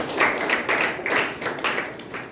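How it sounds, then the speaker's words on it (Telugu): A church congregation at a Sunday service claps in praise, a dense rhythmic burst of many hands pulsing at a steady beat, fairly close and continuous across the moment. "గట్టిగా చప్పట్లు పెట్టి ప్రభుని మహిమ"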